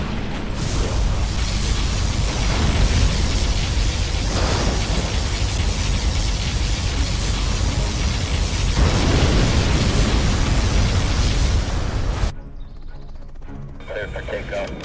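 Particle cannon firing in Command & Conquer Generals Zero Hour: a loud, sustained roaring blast of dense noise that holds for about twelve seconds, then cuts off abruptly, leaving quieter game sounds.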